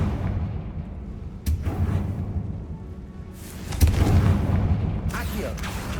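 A Confringo explosive spell goes off in Hogwarts Legacy, with two loud booming blasts a couple of seconds apart, each followed by a rumbling tail.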